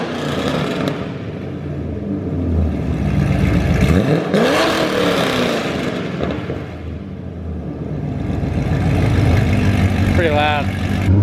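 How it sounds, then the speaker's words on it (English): A widebody Corvette C6 with straight pipes idles roughly, then barks through a sharp rev that rises and falls, loud and close, followed by a second rising rev, with voices faintly in the background. "Gonna get some revs."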